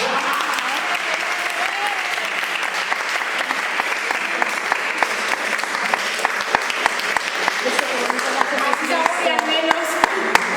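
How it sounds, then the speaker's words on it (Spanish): An audience claps after a children's ballet class, dense steady applause lasting throughout, with a few voices faintly heard under the clapping. "Podéis aplaudir y así les"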